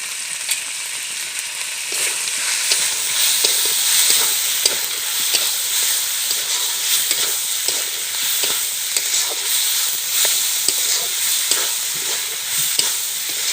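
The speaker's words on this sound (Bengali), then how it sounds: "এইভাবে 2 বা 3 মিনিট মতো নাড়াচাড়া করে" Chicken curry with potatoes and turmeric is stirred in a hot pan: an unbroken oily sizzle punctuated by regular scraping strokes of the spoon, close and fairly loud, with nobody speaking.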